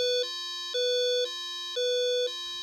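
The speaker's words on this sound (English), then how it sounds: "To stop the alarm," A micro:bit door alarm sounds a repeating two-tone electronic beep, alternating high and low pitches in a steady rhythm about every half second, loud and clean with no voices.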